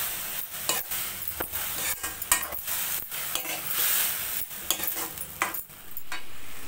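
Cabbage and carrot poriyal with salt being stirred in a hot pan, a continuous soft sizzle broken by repeated scraping strokes of a spoon against the metal at an irregular, busy rhythm, close up with no talking.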